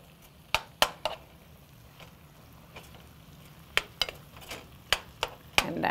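A spoon stirs mashed roasted eggplant and garlic in a bowl, with scattered sharp clinks and taps against the sides over a quiet, soft scraping background.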